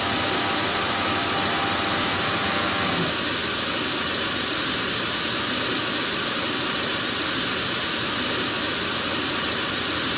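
Jet engines start and spool up in the airport simulation game Airport Master, a loud, continuous roaring whine that holds steady and fills the whole stretch, with a slight shift in tone partway through.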